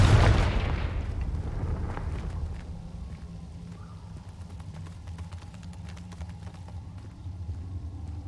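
A Confringo blasting spell explodes in Hogwarts Legacy, a loud booming burst at the start that decays into a long rumbling tail with scattered crackles.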